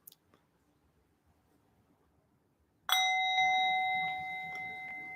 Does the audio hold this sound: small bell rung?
yes